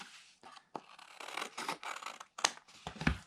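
Scissors snip and trim sheets of paper for a paper sculpture, a run of close, crisp cuts with short pauses between strokes and a sharper burst of snips near the end.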